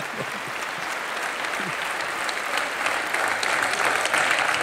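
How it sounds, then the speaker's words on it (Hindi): Studio audience at a Hindi talk show claps in a sustained, even burst of applause that builds slightly toward the end, with no talk over it. "ये हमारी ऑडियंस बड़ी कमाल की है ये मार पिटाई पे जरूर ताली मारती है"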